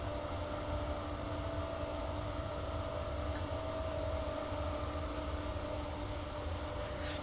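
A ScotRail Class 68 diesel locomotive runs along the West Coast Main Line North in Train Simulator, a steady engine drone and rolling hum with a faint high whine and no talk.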